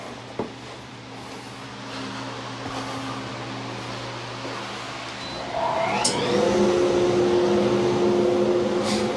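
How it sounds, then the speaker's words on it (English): A workshop dust collector spins up partway through, its rising whine settling into a loud, steady hum that sits over the quieter rumble of machinery running beforehand. "Forgot dust collection."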